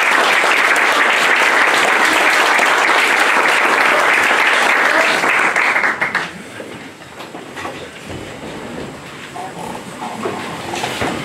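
Audience applause at a high school reading concert, dense and loud clapping from a crowd that cuts off sharply after about six seconds, leaving quieter room noise and scattered sounds.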